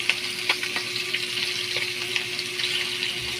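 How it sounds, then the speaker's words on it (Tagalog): Galunggong fish frying in a pan: a steady, close sizzle of hot oil with soft pops and crackles throughout, no voices. "munti ko na nga po makalimutan yung piniprito kong galunggong. Baka masunog po."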